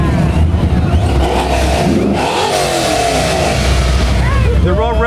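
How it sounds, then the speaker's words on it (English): Car engines in a Christmas parade rev and rumble loudly nearby amid crowd chatter and voices, with a revving rise near the end. "They're all revving the engine because they see the BCTV camera."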